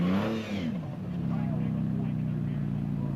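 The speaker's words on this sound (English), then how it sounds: "My car struggling to get the traction to push its way up right here." An Unlimited Pro Class rock crawler at a WE Rock event revs hard while struggling for traction on rocks, its engine droning loud and steady, with a voice heard briefly at the start.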